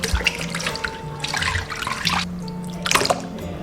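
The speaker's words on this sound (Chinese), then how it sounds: "然后我们再用清水给它清洗2遍就可以了" Clean tap water runs and splashes as pig intestines are rinsed in a sink, with continuous close-up gushing and sloshing that briefly eases before surging again.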